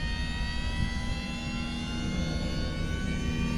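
A Losi Promoto RC motorcycle running loudly, a constant close whining motor drone with a rough low rumble and layered high tones, steady throughout with no speech.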